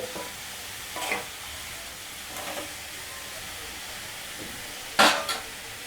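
Salted bottle gourd pieces cooking in a covered pan are stirred: a steady soft sizzle broken by a few spoon scrapes against the pan, the last one louder and close.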